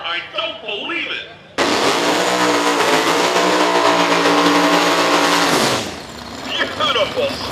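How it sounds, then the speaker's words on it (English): A drag racing car does a smoky burnout, its engine exploding into a loud, sustained roar for about four seconds before cutting back, with an announcer talking before and after. "Beautiful smoky burnout by Sean Nash out of Whitney, Florida."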